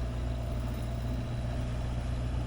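A sailboat's auxiliary engine runs steadily while motoring at about 6 knots on the Caribbean Sea, a continuous low drone with a constant throbbing rumble and no voices over it.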